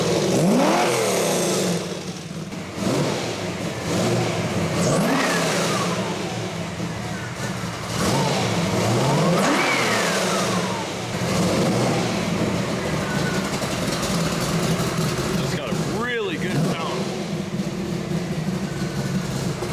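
A Ford Mustang's exhaust revs in several rising and falling bursts between stretches of rumbling idle. The engine is fairly close, and voices talk over it.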